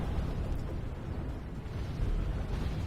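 Rumbling, crumbling roar of a castle wall collapsing during a siege battle in Medieval 2 Total War, a continuous low, dense rumble with bursts of debris that swells slightly toward the end, with no talk.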